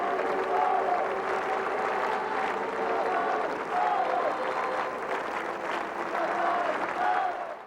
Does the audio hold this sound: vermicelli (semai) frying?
no